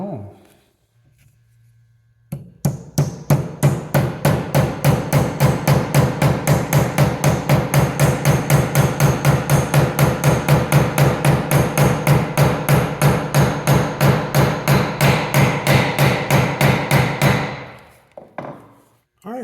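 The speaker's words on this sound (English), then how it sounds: "Line that thing up and drive it home." A hammer drives a wedge into a tomahawk handle forged from a railroad spike, striking in a rapid steady series of loud, close, sharp blows for about fifteen seconds before stopping.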